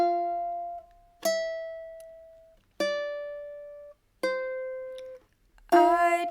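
Fingerstyle ukulele picks out a riff in four single ringing plucked notes, evenly spaced and each left to decay, then ends on a brighter strummed chord.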